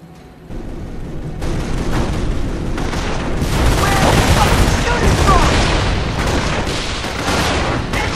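Dense gunfire and heavy booms from a World War II battle in Company of Heroes, sustained and loud throughout, with voices shouting over the barrage.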